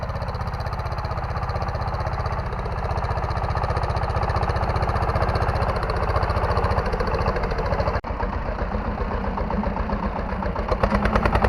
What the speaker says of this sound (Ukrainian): Легенько собі тягне помаленьку та й все.